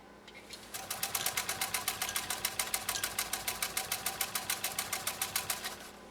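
A 1928 Singer 66-6 sewing machine stitches upholstery fabric, starting from a quiet hum and settling into a fast, even, close rhythmic clatter of needle strokes that continues to the end, with no talking.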